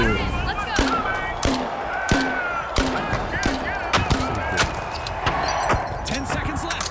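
Gunfire from a video game: a rapid run of sharp, loud shots in irregular bursts, layered over game music and effects, with a voice talking over the action.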